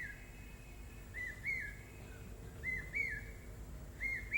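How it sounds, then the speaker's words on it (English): A bird calls from a distance in short, high whistled notes, repeating in small clusters about every second and a half over a quiet, hissy background. "give your whole mind and heart to that bird that's calling"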